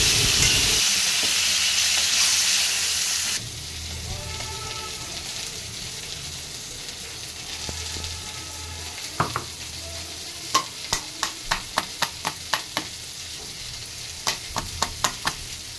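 Black cumin seeds dropped into hot oil give a loud hiss and sizzle at first, settling into a softer steady fry, followed by a run of sharp clinks and taps from a spoon stirring in the pan. No one speaks.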